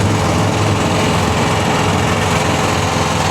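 A tracked mud buggy's small engine drones steadily and loudly throughout, a constant buzzing hum with no pauses and no voices.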